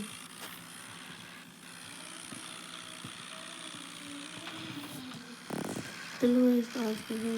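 Tractor engine running in a farming video game, a low steady idling hum that continues quietly, with a brief louder burst and a few short tonal beeps near the end.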